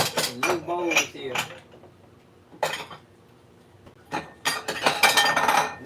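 New ceramic bowls and cups clink and knock together in bursts, close and bright, separated by short quiet pauses while they are handled in a kitchen.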